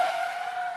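Car tires skid and squeal in a tire commercial, a steady high-pitched screech held loud and close for under a second with no talk.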